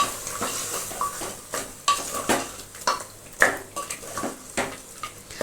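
Stirring onion powder into mutton curry inside a pressure cooker, a metal spoon scraping and clinking against the pot in irregular bursts, with a faint sizzle underneath.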